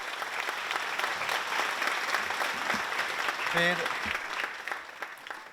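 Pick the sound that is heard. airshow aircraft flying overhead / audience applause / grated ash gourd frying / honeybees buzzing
audience applause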